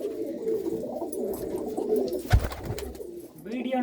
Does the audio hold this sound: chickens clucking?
no